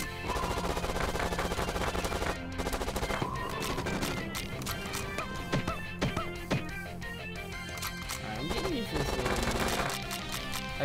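Rapid, dense gunfire-like bursts from a Hyper Beam attack in the video game Panty Party, continuous and loud throughout with crashing hits layered over game music.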